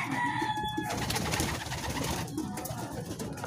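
Pigeons released during a toss in Padre Garcia, Batangas, cooing and calling close by, with a steady busy outdoor background and some fluttering texture throughout.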